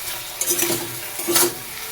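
Chopped tomatoes fry with salt and green chillies in a pan for a red lentil dal, giving a soft, low sizzle broken by two brief scraping stirs.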